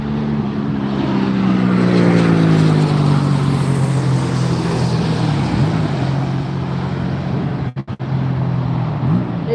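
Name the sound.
Gulfstream jet aircraft landing in crosswind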